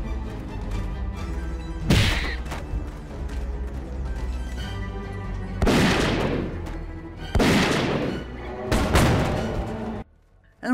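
Explosions and gunfire burst out in Zeno Clash as exploding squirrels are hurled, with four loud crashing blasts over a steady game backdrop before a sudden drop to near silence.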